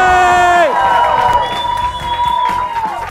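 Studio audience cheering and applause on a talk show, a loud crowd roar with clapping and whoops beneath a sustained tonal sound that slides down early on.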